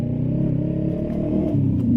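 A learner-legal motorcycle rides through an alleyway, its engine a steady close rumbling drone that shifts pitch as the throttle changes, with no talking.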